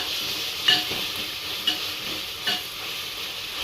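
Ginger garlic paste with green chillies sautéing in a pan, a steady soft sizzle broken by three sharp spatula scrapes against the metal, close and alone.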